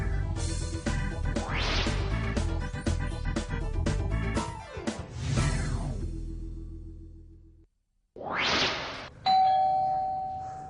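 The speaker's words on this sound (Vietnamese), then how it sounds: "Cũng có tiếng chuông kìa." Doorbell of a home chiming through a short melodic sequence of ringing tones, then a pause and a further ding with a sustained electronic tone at the end.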